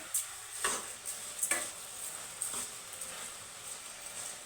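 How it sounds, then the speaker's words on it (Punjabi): A spoon stirring gajrela, a carrot halwa mixture, in a pan, giving faint scraping strokes at an irregular pace over a soft sizzle, with no talk. "ਹੁਣ ਆਪਾਂ ਇਹਨੂੰ ਮਿਕਸ ਕਰ ਲਾਂਗੇ"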